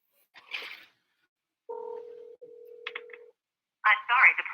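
A phone dialing a call, short keypad tones followed by a long steady electronic tone, with bursts of a person talking before and after.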